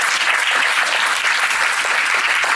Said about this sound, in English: So let's have a round of applause.